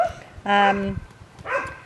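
Dogs at a dog rescue and rehabilitation centre in Badlapur on the outskirts of Mumbai, giving a few close, loud barks and yips in quick succession.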